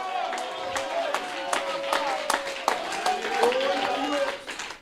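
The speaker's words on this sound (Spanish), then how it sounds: "Dale un fuerte aplauso a tu Rey, iglesia" A church congregation claps for their King during a Spanish-language worship service at an annual retreat in Bonaire, with sharp, scattered hand claps over sustained sung or shouted voices and crowd noise throughout.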